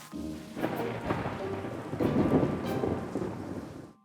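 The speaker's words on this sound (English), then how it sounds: "Number 4, fear of thunder and lightning." A thunderstorm rumbles with rolling thunder over steady heavy rain, the booms swelling loud and close while the downpour hisses continuously, no voices present.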